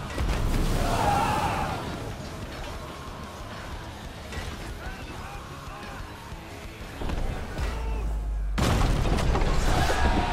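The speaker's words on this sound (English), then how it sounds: "There we go, gate's destroyed" A castle gate gives way during a breach in For Honor, heard as heavy rumbling booms and battle noise that build to a loud, thick crash near the end.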